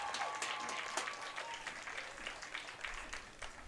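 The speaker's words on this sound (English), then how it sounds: "let's give a round of applause for Brianna Cedrone" A crowd at a high school game honoring senior cheerleaders applauds a cheerleader from Kenmore with steady, scattered clapping that sounds somewhat distant and gradually softens.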